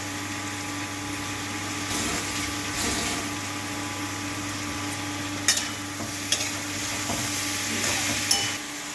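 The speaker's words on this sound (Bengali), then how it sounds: "এটাকে কষিয়ে নিচ্ছি একটু গরম মশলাও দিয়ে দিই" Curry sizzling and frying in a pan as it is stirred, a steady low hiss with scraping clinks of the spoon against the pan, close and continuous.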